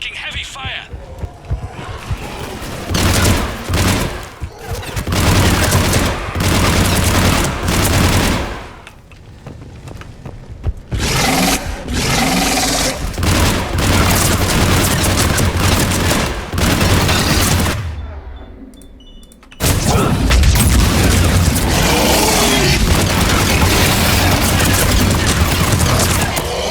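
Heavy gunfire and booming explosions in the Mass Effect 3 finale battle, a loud, dense barrage that runs almost continuously and drops briefly twice before surging back at full intensity.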